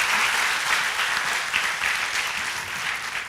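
An audience at a Tech Week Artsakh presentation claps for the speaker Ashot, dense, steady and loud applause filling the room throughout.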